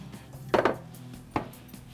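Chocolate coconut bar ingredients stirred in a pan over a medium flame, a few short scraping and clinking knocks of a spoon against the pan, close and fairly quiet.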